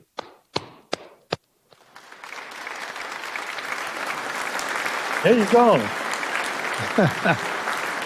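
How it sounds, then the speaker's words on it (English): A few sharp, separate claps come first, then a broad round of applause rises from the audience at a presidents' forum. Someone speaks briefly, and some voices carry over the clapping. "Well, a great round of applause."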